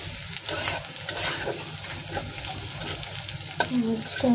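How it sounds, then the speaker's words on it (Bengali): A vegetable fry with onion and turmeric cooking in a pan, a steady close sizzle with stirring scrapes and occasional utensil knocks throughout, no talking. "ভাজিটা বসাতেছি।"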